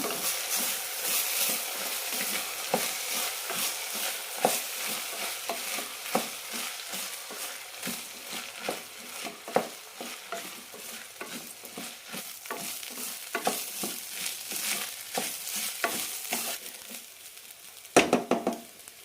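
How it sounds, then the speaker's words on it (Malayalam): Rice roasts in hot oil with cumin and green chillies, a soft sizzle broken by rhythmic scraping strokes of stirring, ending with a couple of louder clanks against the pan. "ഒന്ന് രണ്ട് മിനിറ്റ് നന്നായി വറുത്തെടുക്കാം"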